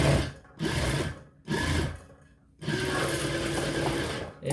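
Sewing machine running the inner seams of a blouse in three loud close bursts of fast, even stitching, separated by short pauses, with no talk.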